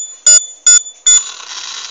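Three short, loud, high electronic beeps from an accident avoidance robot's buzzer, evenly spaced, followed by a fainter continuing tone.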